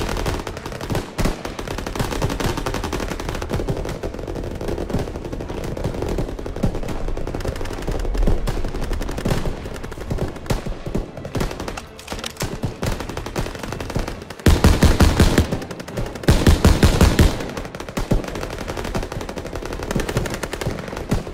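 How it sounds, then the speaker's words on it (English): Sustained machine gun fire in the World War II shooter Call of Duty WWII, loud and dense bursts running throughout with heavier volleys near the end amid battlefield noise. "MGs, open fire!"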